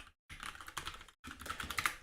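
Typing a command on a computer keyboard, a close run of quick clattering keystrokes in two bursts broken by brief silent gaps.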